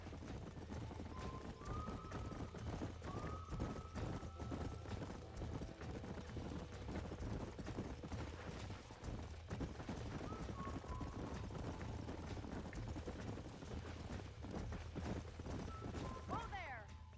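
Horses gallop in the Red Dead Redemption video game, a steady rhythmic clip-clop of hooves running throughout alongside game ambience, with speech-like voices faintly present.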